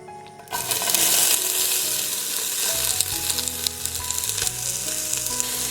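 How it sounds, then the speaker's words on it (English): Onions hitting smoking-hot olive oil in a pot burst into a loud, dense sizzle that keeps crackling steadily, with bright spattering pops throughout and no talking. "now we can add the onions and saute them"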